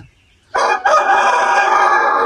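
A rooster crows loudly and close, one long sustained cock-a-doodle-doo after a brief quiet start.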